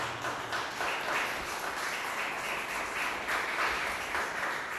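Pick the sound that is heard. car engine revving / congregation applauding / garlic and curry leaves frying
congregation applauding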